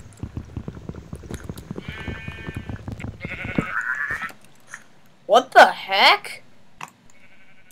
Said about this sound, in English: Is that a sheep?